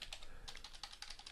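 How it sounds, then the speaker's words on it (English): Rapid clicking keystrokes on a computer keyboard while text is entered in a CAD drafting program, a steady close patter of taps with no voices. "And now I can just start typing in"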